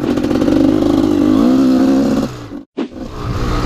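A GasGas EC 250 enduro motorcycle revs hard with a loud, buzzing engine note that climbs and wavers, cuts out abruptly for a moment, then picks back up.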